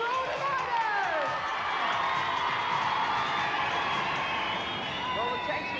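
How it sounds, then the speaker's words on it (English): Crowd at a BMX flatland and ramp competition cheering and clapping steadily throughout, a dense continuous wash of applause with a commentator's voice running over it. "Let's have a big round of applause for all the riders!"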